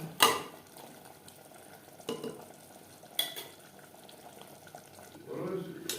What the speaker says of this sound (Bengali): মাংস বেশ ভালো করে কষিয়ে নেব।